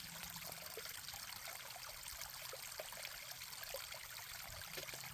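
Water trickles and drips through a backpacking filter into a water bag on an Appalachian Trail hike, a faint, steady stream sprinkled with small splashy drips, close by and quiet, without speech.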